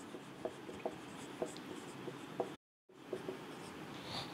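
Chalk or marker strokes on a classroom board while chemistry compounds are written out, a few soft taps and scratches spaced irregularly, quiet and close, with a brief dropout midway.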